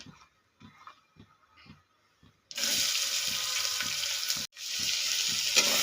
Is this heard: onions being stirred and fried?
yes